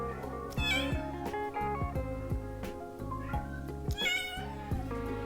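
A female cat meows repeatedly in drawn-out, tonal calls from the other side of a door, fairly close, with short pauses between the cries.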